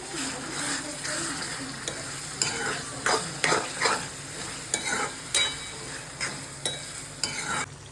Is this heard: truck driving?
no